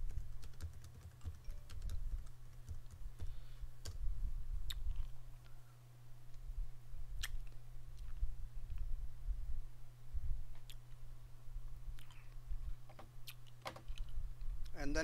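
Clicks and taps at a computer while building a C# form, scattered sharp sounds over a constant low hum with long quiet gaps between them.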